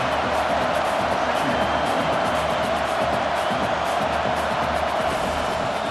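Dense, roaring stadium crowd at a college football game between Temple and LSU, a continuous wall of cheering and noise that holds steady and loud throughout, late in the game on a big third down.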